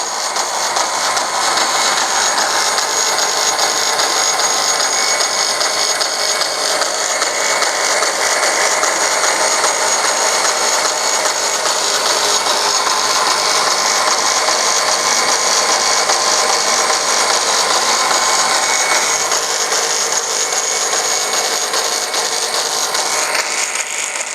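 A bandsaw cuts thermoformed plastic signs, giving a steady, loud, continuous mechanical whirr with a faint rattling texture. It runs unbroken for the whole span with no talking.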